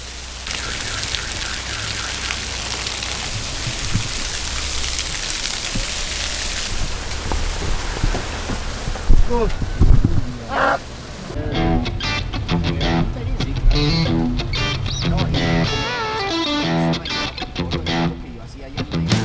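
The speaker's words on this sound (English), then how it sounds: "It's fucking pouring." Heavy rain pours down in Bogota, a dense, loud hiss of drops hitting surfaces that continues throughout, with people talking over it in the later part.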